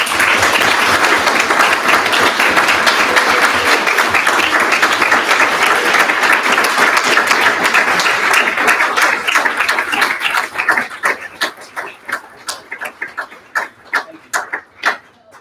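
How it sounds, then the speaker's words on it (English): A symposium audience applauds an intern program colleague, a long, loud, dense round of clapping that holds steady before thinning into scattered individual claps and fading out. "So I want you all to give Brad a round of applause."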